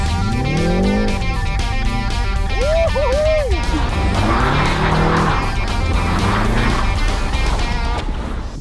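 Car driving hard with tires squealing and skidding, loud engine roar and sustained screeching rubber throughout, with rising and falling squeal sweeps in the middle and voices talking over it.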